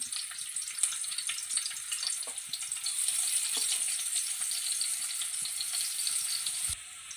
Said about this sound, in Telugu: 2 స్పూన్ ఆయిల్ అయితే వేసుకున్నాను. కట్ చేసుకున్న ఆనియన్స్ అయితే వేసుకున్నాను.